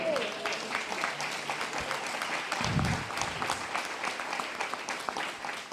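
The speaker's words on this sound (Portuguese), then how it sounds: "aplaude Ele." A church congregation applauds during a worship service, with sustained, dense clapping from many hands filling the room at an even level from start to finish.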